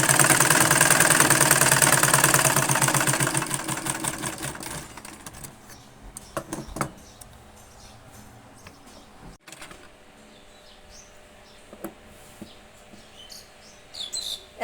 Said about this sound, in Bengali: এক ইঞ্চি কাপড় রেখে আমরা সেলাই করতেছি।